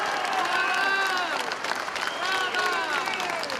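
Sustained applause from a crowd at a Democratic Party (PD) political rally as the party secretary speaks about public healthcare, dense and steady throughout, with voices rising over it.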